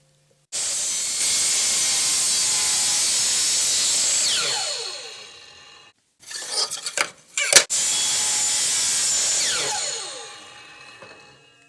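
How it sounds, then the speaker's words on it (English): A miter saw set to 45 degrees cuts plexiglass with a low-tooth-count blade that chips it: a loud, steady whining cut lasts several seconds and winds down, followed by a few clattering knocks, then a second sustained cut fading out. "Set the miter saw to 45 degrees."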